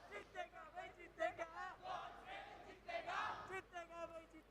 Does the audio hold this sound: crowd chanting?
yes